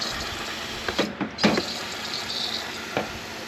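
A water spray hisses steadily across the engine bay of a 1997 Mazda Miata after a valve cover gasket replacement, with a few sharper bursts and clicks of the nozzle near the start, close and continuous with no talk.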